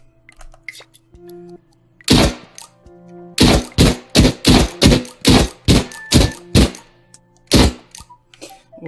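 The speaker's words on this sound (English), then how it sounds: "We got a nice firing gun now" A gun fires in the Dreams video game on PS4: about ten sharp, loud shots. A single report comes first, then a quick run of evenly spaced blasts and one last shot, with no talking.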